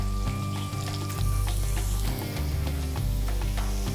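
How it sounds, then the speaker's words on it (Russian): Vegetables frying in duck fat for Uzbek dimlama, a dense, close, continuous sizzle with loud crackling and occasional stirring scrapes, no voices. "Здесь все жарится отлично."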